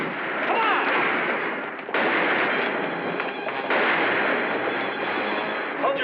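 Heavy gunfire roars almost without a break during a shootout around a house in a Western, a loud, dense barrage that dips for a moment about a third of the way through and then surges on.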